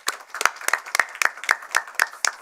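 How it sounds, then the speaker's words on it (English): Audience at a professorial inauguration claps in a brisk, sparse rhythm, about ten distinct, close handclaps over a couple of seconds rather than a dense ovation. "can we give them a big applause, please?"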